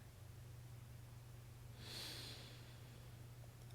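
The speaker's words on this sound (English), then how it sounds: "One more deep breath here." A single deep breath drawn in and let out during a stress-relief relaxation exercise on the floor, a soft airy rush in the middle of a quiet stretch over a low steady hum.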